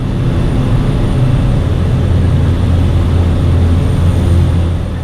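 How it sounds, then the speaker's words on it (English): A Cessna Caravan floatplane in flight gives a continuous, loud, low engine and propeller drone that stays even and close for the whole span, with no voices. "this aircraft is ready to land on Lake Wolfgang"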